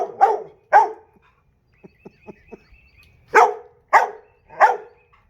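Several dogs, a Pitbull, a Rottweiler-Lab mix and two terriers, barking while they roughhouse at play: loud, close barks in pairs at the start and in a burst of three near the end, with soft yips and whimpers between them.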